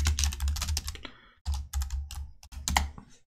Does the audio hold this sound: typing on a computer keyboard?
yes